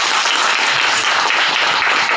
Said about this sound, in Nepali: हामी ताली बजाएर हुनेछौँ र स्वागत